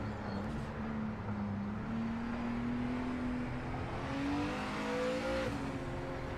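The Praga race car in the Project Motor Racing video game drones with a steady, loud engine note that rises slowly in pitch as it accelerates, with a brief dip around a gear change and a continuous tire and track rumble underneath.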